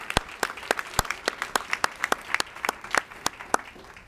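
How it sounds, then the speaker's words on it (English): An audience at a 2019 gala gives a round of applause for eleven student leaders: sustained, dense clapping with distinct individual claps that carries through the whole stretch at an even, lively level. "let's just give all of our 11 leaders another round of applause"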